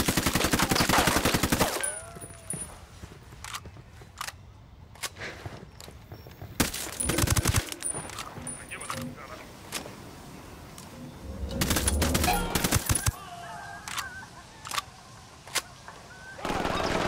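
Machine gun fire in the video game Ghost Recon Wildlands, loud bursts and single shots crackling in clusters between quieter gaps, with faint birdsong and movement underneath.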